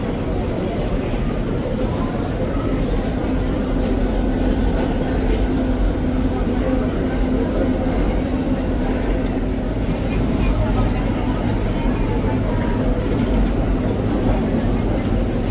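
Ambience inside a Shinkansen bullet train station in Japan, a steady low rumbling hum of rail and crowd noise throughout, with faint murmured voices and occasional light clicks.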